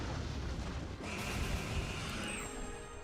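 A fireball explosion in the video game Monster Hunter Stories 2 erupts as a loud, sustained blast with a roaring, noisy rumble that swells after a brief dip and holds steady for several seconds, with no talk.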